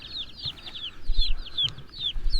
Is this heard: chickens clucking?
yes